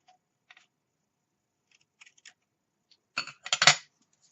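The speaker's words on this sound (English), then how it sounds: "Now, where's my scissor? Got it right here. So I'm going to cut it close to the brad." Scissors cutting ribbon close to a brad during bow making, with faint scattered clicks followed by a few short, sharp snips near the end.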